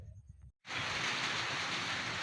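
Steady rain pours down at an outdoor pigeon racing loft, a dense even hiss that starts abruptly after a short silence and continues without letup.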